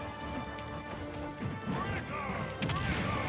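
Down smash attacks land in Super Smash Bros, two heavy crunching impacts over ongoing game music and effects, loud and close in the game's mix.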